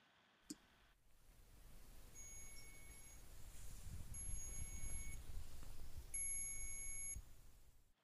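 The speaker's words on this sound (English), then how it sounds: "And there was also a beep button, so that sounds like this." A Stick-n-Find Bluetooth sticker tag beeps three times in a slow rhythm, each beep a thin, high, electronic tone about a second long, faint and close over a low hum, with a click just before.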